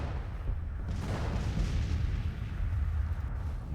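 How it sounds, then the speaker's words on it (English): Artillery barrage rumbling continuously in an American Civil War strategy game battle at Mississippi City, a dense low roar of booms and blasts that stays loud and steady throughout, with no voices. "they're under artillery fire"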